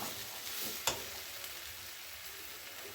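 Loita (Bombay duck) fish frying crisp in a pan, a soft, even sizzle with a single sharp clink of tongs early on, faint and close with no talk.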